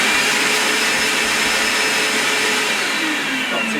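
A Vax HF1400 carpet washer and vacuum cleaner draws suction through its hose with a loud, steady whooshing roar that holds constant from start to finish, with no talking.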